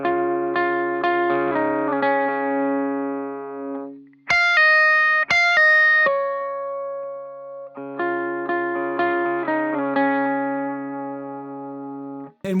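A worship-song intro on electric guitar with effects: sustained, shimmering chords ringing under each change, a brief bright high-note break in the middle, then the chord pattern returns, close and steady.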